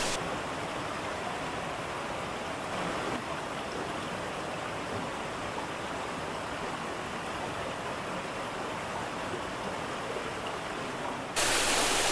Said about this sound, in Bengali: ঠিক আমার পেছনে ফলসটা দেখতে পাচ্ছ।